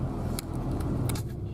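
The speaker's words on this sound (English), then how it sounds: "There's one of the new London buses going past" A new London bus passing in morning rush-hour city-centre traffic, a steady close engine drone under the general road noise, with a few short clicks and rattles on top.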